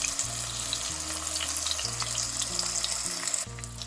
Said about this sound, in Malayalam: ഓരോ ഫിഷായിട്ട് ഫ്രൈ ചെയ്തെടുക്കാം